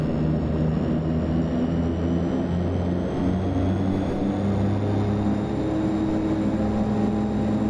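A simulated Aerosoft Twin Otter taxiing to parking in a flight simulator gives a steady, loud propeller drone with an unbroken engine hum and no breaks.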